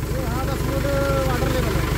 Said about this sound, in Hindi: ट्रैक्टर बहुत ही कम रेस पे चल रहा है भाई